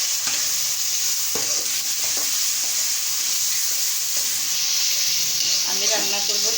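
Garlic paste sizzles and hisses in hot oil in a frying pan while being stirred, a continuous bright close frying sound with occasional scraping clicks of the utensil.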